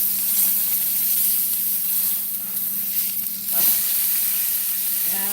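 A rib roast sears in a hot pan with a loud, continuous hissing sizzle that swells briefly now and then, with a low hum beneath.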